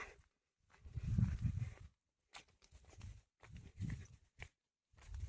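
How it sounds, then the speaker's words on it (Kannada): Slow, uneven hoofbeats of oxen walking on a farm, faint and fairly close, in short irregular bursts separated by brief quiet gaps. "ಎತ್ತುಗಳಿಗೆ ನೀರು ಕುಡಿಸಿ ಬರ್ಲಕ್ಕೆ ಹೊಂಟ್ರ."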